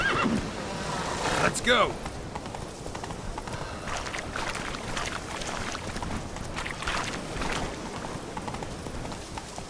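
Roach the horse in the video game The Witcher 3 whinnies loudly near the start, then hooves gallop in a steady rhythm while someone speaks briefly over it.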